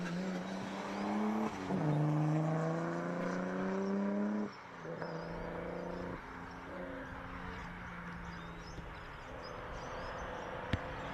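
A rally car powers along a gravel rally stage, its engine climbing through gear-change steps with sharp revving pulls, then easing off near the end; loud, close and steady throughout, with no talking.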